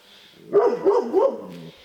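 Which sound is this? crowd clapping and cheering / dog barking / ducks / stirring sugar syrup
dog barking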